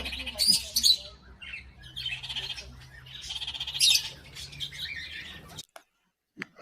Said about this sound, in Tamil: parrot, பச்சை கிளி.